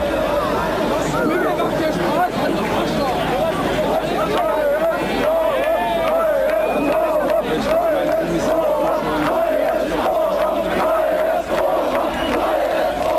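A large crowd at the Palace of the Republic in Berlin, during the official birthday celebrations, chants together in a steady, rhythmic roar, with dense babble and shouting filling the space throughout.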